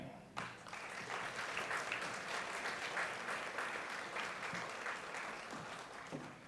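A school graduation ceremony audience applauds in a sustained, dense round of clapping that begins abruptly and holds steady throughout.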